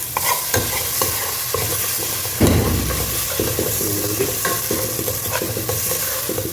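Ginger and garlic fry in a pan for beef biryani, a close, loud, continuous sizzle broken by repeated scraping stirs of a spoon against the pan.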